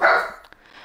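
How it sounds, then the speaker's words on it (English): A pet dog indoors at home lets out a loud, close bark burst lasting a fraction of a second, followed by near silence with a faint click. "Why are you barking, baby?"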